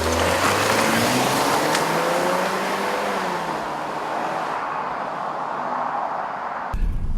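A 2014 Ford Escape driving on the road, heard from inside as a steady engine hum with rising tones as it accelerates and shifts, a loud continuous rumble that settles slightly before a brief thump near the end.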